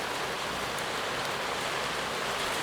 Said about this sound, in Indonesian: Di sini udah mulai besar hujannya.